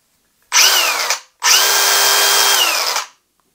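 Milwaukee M18 cordless power tool with a plastic guard running alone at close range: a short burst of high whirring, a brief stop, then a longer steady run that winds down quickly with a rapid brake.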